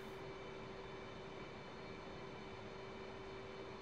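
F/A-18 Hornet jet engines in a flight simulator game running up to 85% power, a steady loud droning roar with a constant whine, alone without talk.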